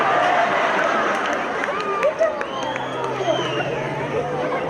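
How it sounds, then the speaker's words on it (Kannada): Applause and cheering from a crowd at a live Kannada comedy show, a sustained wash of clapping with excited voices and babble mixed in throughout. "ಈಗ ಚಪ್ಪಾಳೆ ಕೊಡಿ ನೋಡಲಿ."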